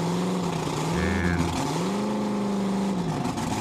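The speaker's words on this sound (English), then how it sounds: "spin it over and I'll hit the ignition" A supercharged alcohol-fuelled engine runs with a rough throaty drone whose pitch rises and falls as it revs, loud and near with no speech.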